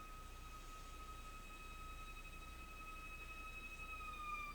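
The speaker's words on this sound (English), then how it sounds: "a siren coming from far away" A siren wails faintly from far away, its steady tone slowly drooping, set against a low background hiss with no talking.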